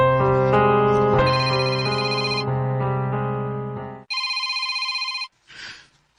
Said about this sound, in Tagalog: Nanawag na sad si Ramos